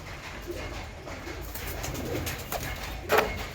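Male pigeons resting in a loft coo softly over low background noise, with a few scattered calls and one louder, closer coo near the end.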